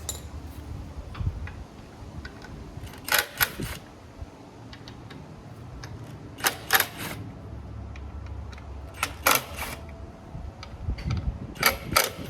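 Harley-Davidson primary cover bolts being loosened with a T27 Torx driver during an oil change service: clusters of sharp ratcheting clicks in short bursts, separated by quieter pauses, close and alone.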